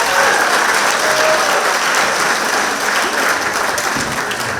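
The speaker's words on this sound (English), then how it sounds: "give them a big round of applause" A large variety-night audience applauds performers Peter, Paul and John, a dense, steady wash of clapping that stays loud and close for the whole stretch before easing slightly at the end.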